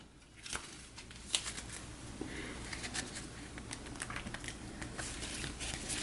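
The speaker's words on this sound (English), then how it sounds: "So we'll give that a shuffle." Cards for the Cartographers board game are shuffled close by, giving a soft, crackling patter of repeated riffles and taps over several seconds.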